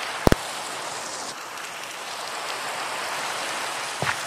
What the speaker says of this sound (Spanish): además de una fuerte lluvia torrencial